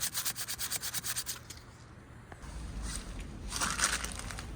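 Steady wet rubbing and scraping of abrasive paper on an alloy wheel rim, with a quick rhythmic stroke pattern at first, then a smoother continuous scrub, close up with no talking.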